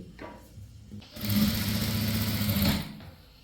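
An electric sewing machine runs in one continuous burst of rapid stitching on chudithar fabric, taking in small pleats, a close whirring buzz preceded by a few faint handling taps and trailing off into quiet.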